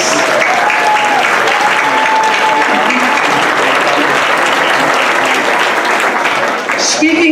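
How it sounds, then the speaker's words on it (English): Sustained, loud applause from a room full of people at a Pride celebration, a dense wash of clapping that holds steady throughout, with faint crowd murmur beneath. "I think that deserves an enormous round of applause"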